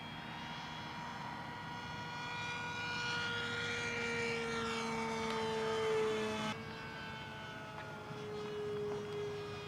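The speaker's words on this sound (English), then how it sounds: "Jason, I really didn't expect this plane to be aerobatic at all." A ReadyMadeRC Mini Skyhunter radio-controlled airplane on its maiden flight buzzes continuously overhead, its electric motor whine rising and falling in pitch as it swoops past and banks away, with no talk.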